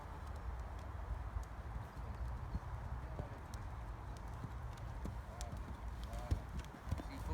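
A horse canters in an arena during a riding lesson, its hoofbeats a soft, rhythmic thudding in the distance under a steady low background, with occasional faint bird chirps.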